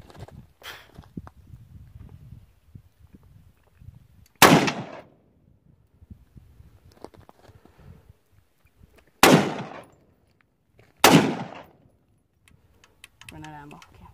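Three sharp, loud gunshots from an M1911 pistol and AR-15 rifle crack at wide, uneven intervals, each with a short decaying tail, over faint rustling and quiet background sounds.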